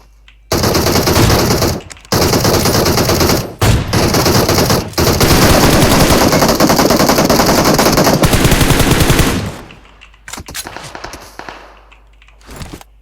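Loud, sustained automatic gunfire in the PUBG Mobile video game, with long rapid bursts broken by brief gaps, then scattered lighter shots trailing off near the end.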